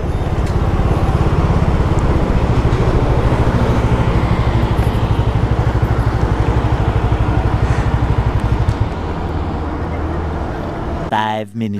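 A motorcycle, one of a pair of sport bikes (Dominar 400, Ninja 300) on a highway ride from Mumbai, drones steadily and close, then cuts off at the end.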